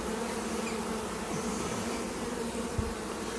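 Honey bees buzzing steadily around an open Flow Hive during an inspection, a dense, close drone with a faint thump near the end.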